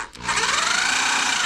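A cordless drill spins up after a brief pause and runs steadily close by, a high whirring whine as it bites into material in a shed, no talking.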